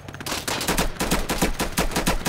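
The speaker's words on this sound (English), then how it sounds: "Too much shooting up in this bitch." Rapid bursts of automatic gunfire from a firefight in the video game Insurgency, repeated shots crackling loud and close with a steady rhythm and no talking.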